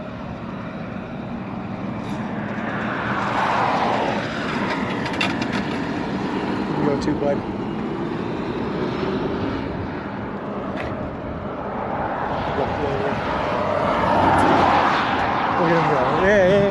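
Cars pass one after another on a road beside a walker, their swells rising and fading at moderate distance, with someone speaking briefly over the traffic.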